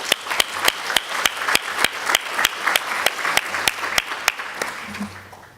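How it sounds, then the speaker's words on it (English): Audience applause at an aviation seminar's opening ceremony, heard as a steady, evenly spaced run of loud, sharp claps, one every few tenths of a second, close and alone for several seconds. "let's give them a louder round of applause for their presence here today."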